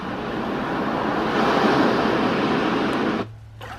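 A Renpho white noise machine plays its water setting: a steady, close, surf-like wash that holds evenly, swells slightly midway, then cuts off abruptly near the end, leaving near-silence.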